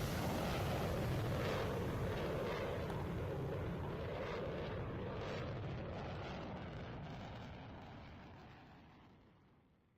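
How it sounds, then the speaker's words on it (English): A Typhoon jet sweeps past in a fast low pass at a game airshow, a broad roaring rush of engine noise that stays loud and steady, then fades away toward the end. "Comes back down now for another fast pass, showing the true capability of that Typhoon aircraft."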